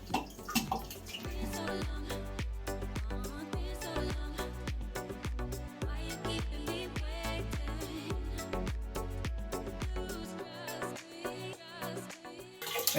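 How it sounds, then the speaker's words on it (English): Water drains from the freshly cut lines of a gas water heater into a floor drain, splashing and trickling steadily and close by, with no talk. "the water that's draining right now down into the drain, it kind of started draining a lot more"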